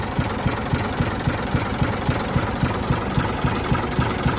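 A Leyland Atlantean bus's diesel engine idles steadily close by, with a rhythmic low knocking chug repeating evenly throughout.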